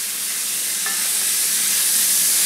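Onion, ginger, Hatch peppers and a shot of soy stir-fried on high heat, a loud close hissing sizzle that swells steadily, with one brief scrape of utensil early on.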